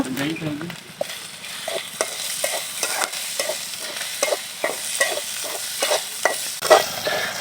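Ginger spice paste with garlic and onion being stir-fried for khichuri, a soft sizzle beneath repeated scraping strokes of a spoon against the pot, a dozen or so rhythmic stirs.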